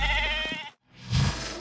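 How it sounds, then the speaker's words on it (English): An excited sheep bleats twice, loud and close, with a brief pause between the two wavering calls. "Though the exact reason for the excitement of these sheep is not known, its enthusiasm is at its peak."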